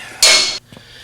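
A wrench slips off a bumper bolt on an '86 GMC Sierra Classic pickup: one sudden loud metallic clatter lasting under half a second, close by, then a faint knock.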